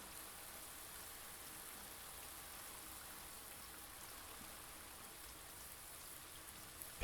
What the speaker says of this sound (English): Is it raining outside? Or no, that's just the sprinkler.